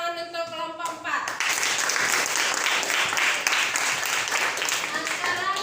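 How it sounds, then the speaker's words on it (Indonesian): A classroom group claps for group 4: after a brief voice, dense applause from many hands breaks out and keeps up steadily. "kita beri tepuk tangan untuk kelompok 4"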